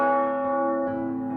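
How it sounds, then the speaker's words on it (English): A single deep church-style bell rings out in the Aoi Tori visual novel game to mark midday, its rich resonant tone held steady and slowly fading, with no voices. "The bell chimes to signal midday."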